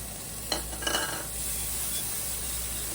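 Chopped small onion pieces hit a hot pan and start frying, with a short burst of sizzle and stirring followed by a steady soft hiss.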